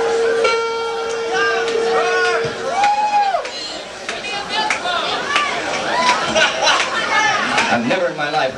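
Rowdy concert crowd at the Whisky in 1981 cheering and shouting between songs, dense overlapping voices and whoops filling the room steadily, with a sustained tone near the start and loud chatter throughout.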